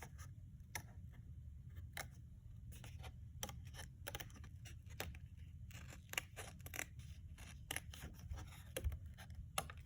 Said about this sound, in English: I have room to put the blade of my snips in, and I can go ahead and trim out a rough oval shape